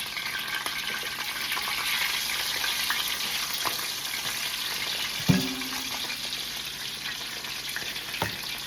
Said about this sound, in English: Gonna add the other piece of pepper and garlic in the frying pan.